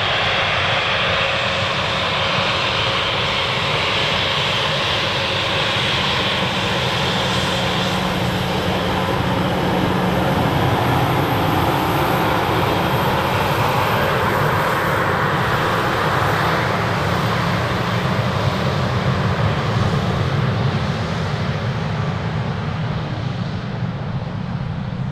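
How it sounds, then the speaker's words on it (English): A Finnair airliner from Helsinki lands on runway 25R at a freezing Frankfurt airport, its broadband engine roar loud and steady for the whole stretch, swelling slightly as it passes close by. "First one up from Helsinki. The Finnair."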